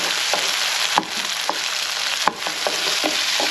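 Ginger garlic paste and tomato frying in a pan for a mutton liver fry, with a constant loud sizzle broken by regular scraping stirs of a spatula.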